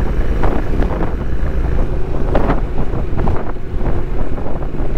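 Strong wind blows across a hillside in Spain on a motorcycle trip, loud gusty roaring and buffeting the microphone without pause.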